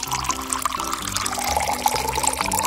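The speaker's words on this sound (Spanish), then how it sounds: "Pondré los vasos adentro y la lleno con agua." Water poured from a container into a small pot holding glasses, a steady close pouring and filling sound with a liquid gurgle, continuous for a few seconds with no talking.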